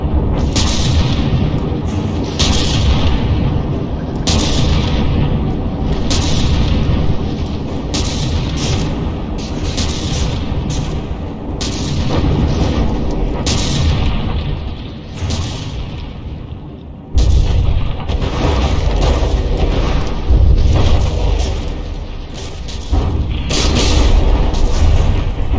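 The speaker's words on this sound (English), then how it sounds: "That APS turret is just slugging away." An APS turret cannon fires again and again during a From the Depths battleship brawl, a loud, steady barrage of heavy booms and impacts over a constant low rumble, with no break in the fire.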